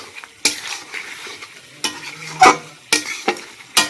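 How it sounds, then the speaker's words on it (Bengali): A pan of chicken curry with spices is stirred over high heat, a steady sizzle broken by several sharp scraping strokes and clinks of a spoon against the metal, close and loud with no voices. "কিছুক্ষণ সব মশলা দিয়ে নাড়িয়ে নিয়েছি"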